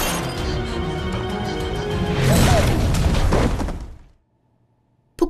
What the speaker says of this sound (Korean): 폭발에 휘말려 크게 다친 장충방의 아내